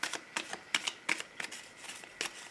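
Tarot cards are shuffled in crisp, papery bursts, about seven quick riffles spaced irregularly, close but soft, with no talking.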